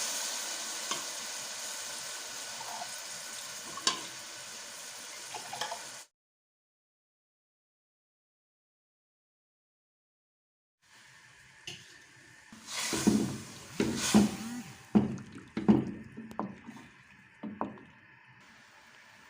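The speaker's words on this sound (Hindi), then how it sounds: "बटेरों का जो सूप डाला निकाला था अब हम वो इसमें ऐड कर" Quail stock goes into a sizzling pulao masala seasoned with black pepper and chili flakes: a soft frying hiss, a silent gap, then louder bubbling sizzle with quick spoon clacks and stirring close by.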